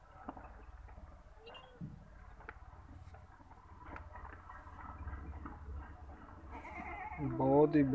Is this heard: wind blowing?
no